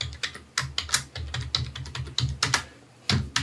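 Steady typing on a computer keyboard while building a spreadsheet-style formula, with a quick run of close, crisp key clicks, a short pause near the end, then more keystrokes.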